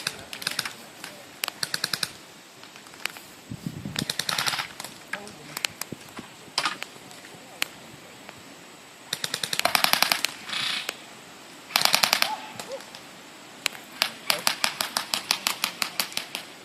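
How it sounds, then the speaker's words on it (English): Airsoft guns firing during an indoor close-quarters battle game, sharp rapid bursts of snapping shots in repeated volleys, some close and loud, with players talking in between. "Who's that shooting?"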